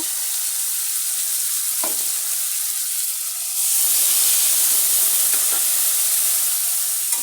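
A pan of chitol fish curry with potatoes sizzles steadily, then jumps to a louder, harsher hiss of frying as water is added partway through, with a few faint stirring knocks. The sound is close up and continuous.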